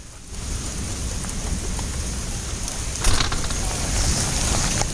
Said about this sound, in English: Raining, downpouring pretty good.